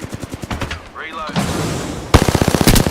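Rapid machine gun bursts in a shooter video game, loud and close, with sharp repeated cracks building into a dense volley near the end over background game sounds.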